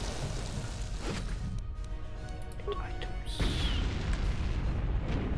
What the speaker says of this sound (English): I hear explosions and things.